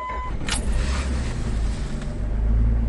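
A Jeep Cherokee KJ with the 3.7 engine, on a weak battery in freezing winter cold, starts with a short burst early on and then settles into a steady, close engine rumble.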